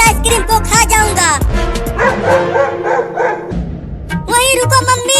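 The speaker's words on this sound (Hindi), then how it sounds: "लगता है अब ये कुत्ता हमें काटेगा। देख भौंक रहा है।" A dog barks in repeated short bursts during a rowdy Hindi comedy scene, the yaps close and loud and mixed with music and voices, then stopping briefly before the sound picks up again.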